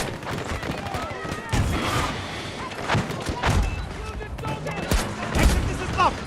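Gunfire in the video game Battlefield 2042: dense bursts of shots and thudding impacts crackle through a busy combat soundscape, layered with other game noise at steady loudness.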